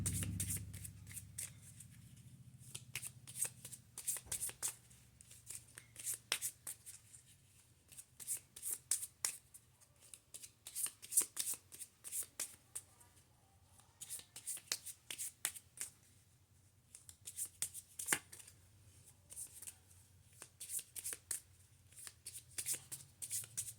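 Tarot cards shuffled by hand before a draw, a long run of crisp riffling bursts and soft slaps in an irregular rhythm, close and fairly quiet over a faint low hum.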